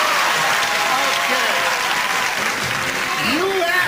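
Loud, sustained applause from a game show studio audience fills the whole stretch, with a voice briefly audible beneath the clapping.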